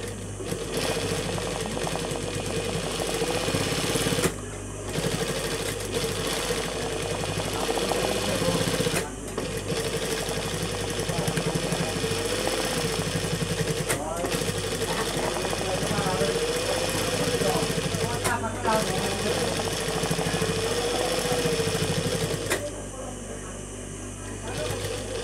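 Foot-operated sewing machine stitching a design along the hem of a salwar, running in a steady, close mechanical whir for long stretches with a few brief pauses, while someone talks over it.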